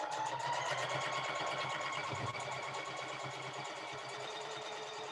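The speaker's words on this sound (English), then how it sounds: "I'm sewing in the dark" Sewing machine stitching a quilt block in a dark room, a steady, continuous mechanical whir and rapid needle chatter running close and loud from start to finish, with no talking over it.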